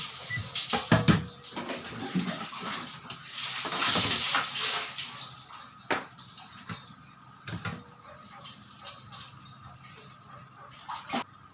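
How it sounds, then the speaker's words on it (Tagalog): Flaked tilapia being rinsed under water, a steady broadband wash with clattering knocks and splashes, loudest around the middle, with dish and pot clinks scattered throughout. "Huhugasan na natin."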